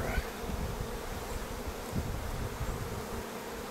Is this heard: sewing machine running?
no